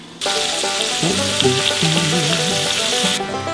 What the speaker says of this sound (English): What we're going for right now is get a nice little sear, a little bit of char on this smoked sausage, Polska kielbasa